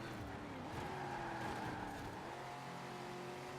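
A rear-wheel-drive track car with a 1969 gearbox accelerates hard off the line through first gear, its engine note rising loud and steady with a slight tire squeal and no voices over it.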